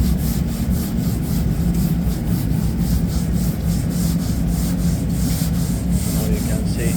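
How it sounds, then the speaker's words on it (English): A steady, close, continuous abrasive rasp comes from rubbing down a rippled wing panel on a Nissan Skyline R34 GT-R to straighten it for a two-tone respray. The strokes keep an even rhythm and there is no talk. "So now when we reshape it, rubbing it down, that will become like proper straight."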